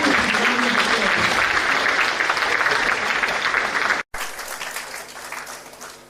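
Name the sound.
audience applause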